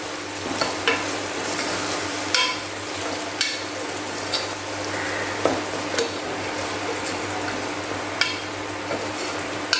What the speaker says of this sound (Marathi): आता आपला मसाला व्यवस्थित आपण ह्याच्यात परतून घेऊया